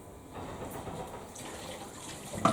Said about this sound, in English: I'm just going to wash my hands